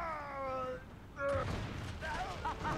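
Shotgun fire in a video game: a sudden harsh blast bursts in after a stretch of thin tonal game sounds, followed by rough, noisy clatter that trails off.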